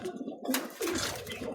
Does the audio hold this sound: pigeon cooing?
yes